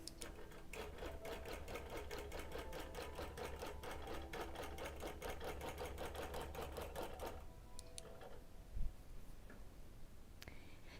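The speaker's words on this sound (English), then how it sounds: "let's turn the 1/4 inch basting stitch on" A longarm quilting machine runs a 1/4 inch basting stitch with a fast, even, mechanical chatter for about seven seconds, then stops, leaving faint ticks and one soft thump.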